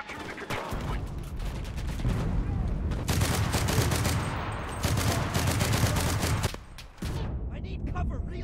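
Heavy gunfire fills a Pacific War battle in the game Enlisted, with dense overlapping rifle and machine-gun bursts, loud and continuous, briefly dropping out near the end before resuming.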